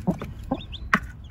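Backyard chickens clucking in short bursts with brief high chirps between, close by and moderately loud, with no talking.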